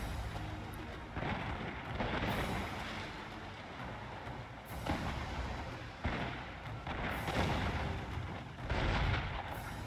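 Arquebusiers and ship cannons fire in a Shogun 2: Total War naval battle between a galleon and heavy ships: repeated heavy, rumbling bursts every couple of seconds over a dense crackle of gunfire and battle noise.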